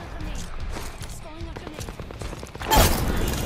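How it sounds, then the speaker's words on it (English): A grenade blast in Apex Legends season 4 lands as a sudden loud burst near the end, following chaotic gameplay sounds and excited talk. "Grenade!"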